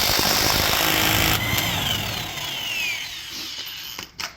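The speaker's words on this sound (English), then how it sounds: "so good old electric Mastercraft Impact does the job" A Mastercraft electric impact wrench loosens the center bolt on a 2014 VW SportWagen wheel hub, a loud buzzing rattle for over a second, then a fading whir as the bolt spins free, with a few clicks at the end.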